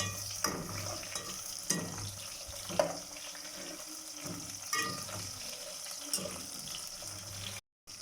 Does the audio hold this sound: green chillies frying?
yes